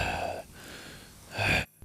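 A voice imitates heavy breathing, heard as two slow, breathy exhalations a second apart, fairly close and quiet, with no other voices.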